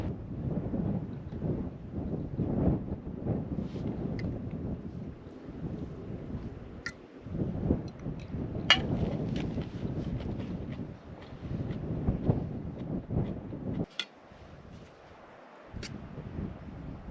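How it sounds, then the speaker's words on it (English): Wind blows steadily across the microphone at a truck campsite beside a homemade aluminum truck camper, a soft low rumble with occasional thumps and brief lulls, no talking. "Now I know it is a bit windy here."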